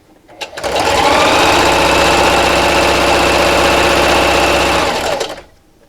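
A sewing machine stitches the seam of a fabric wine gift bag in one loud, steady run of about four seconds, motor whir and fast needle chatter close up, starting and stopping cleanly with a brief knock before.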